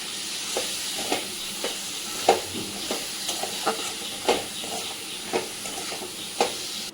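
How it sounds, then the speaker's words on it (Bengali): Spice masala frying in a pan for a home-style chicken dish, a steady hiss and sizzle broken by repeated sharp scrapes and clinks of stirring at a roughly even pace, close and alone with no talk. "এবার আমি মশলাটা ভালো করে কষিয়ে নেব।"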